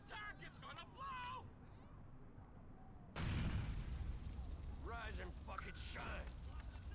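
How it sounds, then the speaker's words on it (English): A grenade launcher fires in GTA IV, and a sudden, loud, sustained blast rumbles out amid game noise. Someone talks over it, and the recording is quiet overall. "Fire a grenade. Ooh, a grenade launcher."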